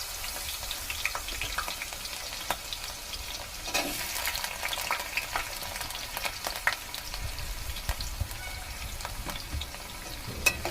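Three large chopped onions fry in hot oil for keema curry, a continuous crackling sizzle broken by scraping spoon strokes and clatters as they are stirred around the pan, close and without talk.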